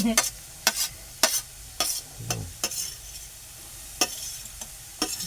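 Ginger and turmeric sautéing in ghee for carrot halwa, a soft sizzle beneath sharp, intermittent stirring scrapes and taps against the pan, close and fairly quiet.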